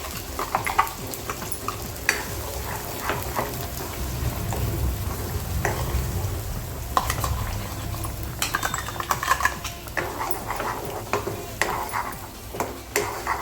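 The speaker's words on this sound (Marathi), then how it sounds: "नंतर आपल्याला हा पूर्ण मसाला या त्याला चांगल्या प्रकारे तळून घ्यायचा आहे" Masala fries in hot oil for a Khandeshi chana dal, giving a loud, continuous sizzle and bubbling with frequent scraping and clinking from a stirring utensil.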